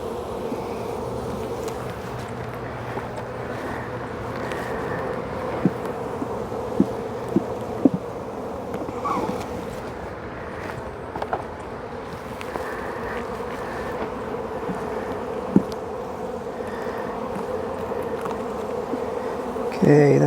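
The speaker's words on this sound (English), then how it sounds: "get these bees settled down a little bit" Honeybees buzzing steadily around an open hive during a queen search, a dense, continuous insect drone close to the microphone with a few faint knocks and handling sounds.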